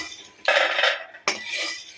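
Roasted peanuts are scraped out of a metal pan with a spoon in two distinct, loud, close scraping strokes, each a rasping clatter of utensil against cookware.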